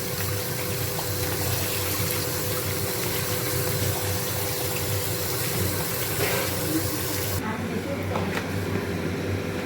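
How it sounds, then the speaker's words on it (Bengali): Tap water runs steadily while potatoes are washed in a home kitchen, a continuous hiss and splash with a low pump-like hum that drops away near the end, under occasional talk. "এই আলুগুলো এবার একটু ধুয়ে নিই ভালো করে।"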